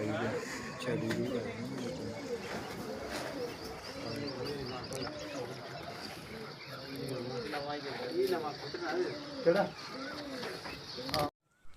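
Pigeons at a pigeon-flying competition coo softly in repeated low, throaty phrases, close by, with people talking over and around them and faint chirps mixed in.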